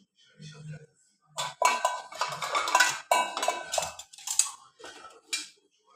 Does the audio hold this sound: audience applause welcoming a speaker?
no